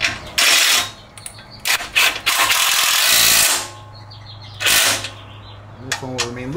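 A hand ratchet tightens a bolt on a RockJock anti-rock bar on a Jeep JL, loud close bursts of rapid clicking in several runs with pauses between them.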